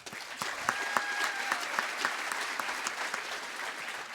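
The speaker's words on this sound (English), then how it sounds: "everybody's give a big round of applause for all of them." School commencement audience applauding for students, teachers and staff, a steady wash of many hands clapping at moderate distance, with a few faint whistles rising above it.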